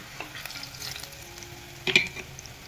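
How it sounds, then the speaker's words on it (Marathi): Garlic sautéing in a pan, with soft frying sizzle and light stirring scrapes, then one brief clatter of the utensil. "लसूण पण चांगला परतलेला आहे बघा"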